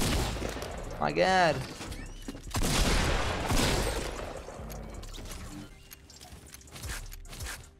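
Fortnite Battle Royale gunfire comes in several sharp bursts with booming impacts over game noise, and someone talks and exclaims throughout.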